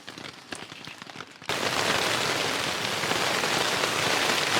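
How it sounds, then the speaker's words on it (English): Rain patters down through the gaps of a steel bridge at a roadside campsite. It starts abruptly after a quieter moment, then settles into a dense, steady wash of drips close by. "we have got actually some protection from the rain. It's just dripping through the gaps"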